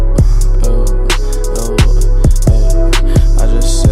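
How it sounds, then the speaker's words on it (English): A loud beat built on a heavy distorted 808 bass, with a steady open hi-hat sizzling on top and regular punchy hits repeating through four seconds. "I love how a distorted 808 sounds with an open hat on top of it"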